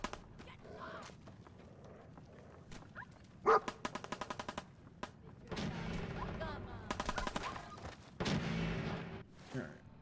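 Dog barking amid gunfire in the video game Fallout 4, with sharp bursts of shots and barks breaking through a busy, uneven battle din.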